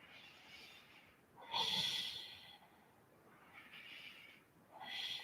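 During a yoga class side bend, close breathing comes through softly: two or three long, airy exhales through the nose, each swelling and then fading, with quiet pauses in between.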